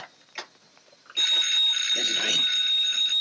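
An old telephone bell rings at night in a 1944 house, a loud, sustained metallic ringing that starts abruptly after a quiet moment with a brief soft sound before it.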